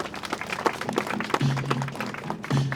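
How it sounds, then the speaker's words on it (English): A Fringe Festival audience in Hamilton gives a round of applause, with scattered, uneven claps and brief vocal whoops and cheers. "Give them a round of applause."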